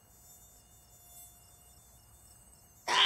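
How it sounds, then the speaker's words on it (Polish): Cartoon mosquitoes on a family camping trip in a children's animation give a thin, steady high whine throughout, faint and continuous, before a sudden loud burst of sound at the very end. "A tu są komary!"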